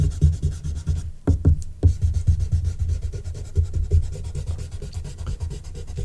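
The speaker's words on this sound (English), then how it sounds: "Now I'm just rubbing out around the edge slightly" A Mars plastic eraser rubs out pencil lines on drawing paper in quick, rhythmic back-and-forth scrubbing strokes, close and fairly loud, with a brief pause and a few taps partway through.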